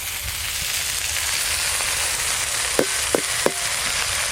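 Vegetables and chopped piring greens frying in a pan, a continuous soft sizzle with a few sharp knocks of a utensil against the pan near the end.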